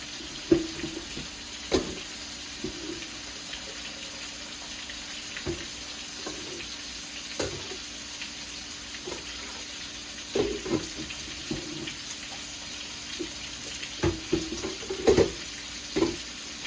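Kitchen tap water running steadily into a spaghetti pot while cooking spaghetti and meatballs, a constant close hiss of flowing water with occasional clinks and knocks.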